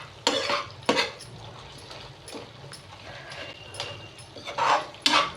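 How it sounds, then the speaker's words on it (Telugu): A ladle mashes cooked tomato pieces in a pan with a run of sharp metallic knocks and scrapes in irregular bursts, several loud strikes standing out over a low simmer. "గెంటుతో ఇట్లా మెదుపుకోండి."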